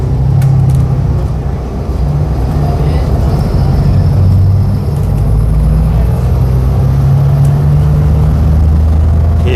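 City bus engine on Route 531 between Cockburn Central and Fremantle, a loud, steady low rumble with gentle swells as it drives, with faint talk in the background.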